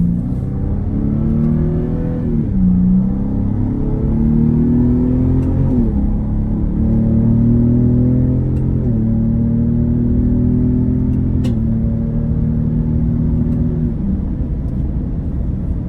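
A Ford Raptor Gen 2 pickup truck accelerating, its engine a loud, steady low roar heard from up close, rising in pitch through several gear changes with no talking.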